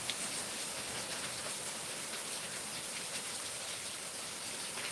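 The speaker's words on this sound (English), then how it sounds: "Hearing all the rain and whatnot." Steady rain falls outdoors in an even, soft hiss that holds at constant moderate loudness throughout, with no voices.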